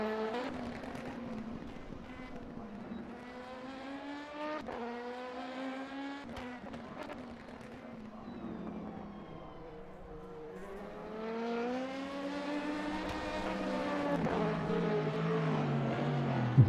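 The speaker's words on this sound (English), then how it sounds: "we'll have the cars practicing on track in the background" Race cars practice on the Nürburgring circuit, engines whining and rising in pitch as they accelerate past at a distance, one approaching louder toward the end.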